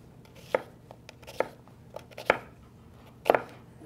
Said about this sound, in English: But just do real thin slices. Make sure you let the knife do the work again.